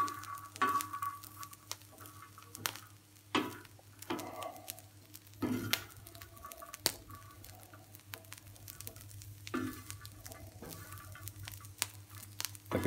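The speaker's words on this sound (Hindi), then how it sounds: "अभी मैं दाने भून रहा हूँ" Grains roasting on a tawa griddle: faint crackling and sizzling with scattered scraping stirs and pops, quiet and close, with no talking.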